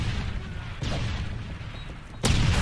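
Grenade blasts in a tactical shooter match, a sharp broadband burst near the end following a rumbling low-end thump earlier, set against continuous game ambience.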